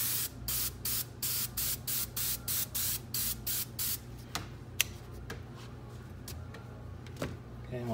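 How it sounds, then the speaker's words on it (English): Polycryl or SEM Surecoat coating sprays out of an aerosol can in a quick series of short, rhythmic bursts, then stops, leaving quiet room tone with a few faint clicks and taps. "And we'll spray it again one more time just to give it a good coating."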